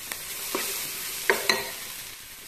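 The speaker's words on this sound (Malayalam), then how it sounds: "ഇതിലോട്ടൊക്കെ നമുക്ക് റൈസ് ഇട്ട് കൊടുക്കാം." Rice is tipped into a hot pan and stir-fried for fried rice, with a steady sizzle broken by a few sharp spatula scrapes and clinks up close.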